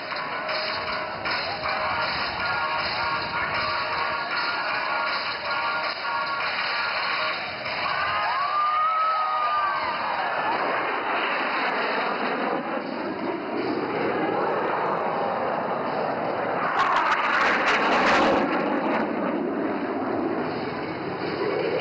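Military jets fly past in formation at the Aero India air show at Yelahanka Air Force Station: a distant whine builds into a rising rumble, then a loud roaring burst sweeps overhead against a steady tonal hum.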